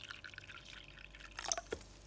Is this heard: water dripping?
yes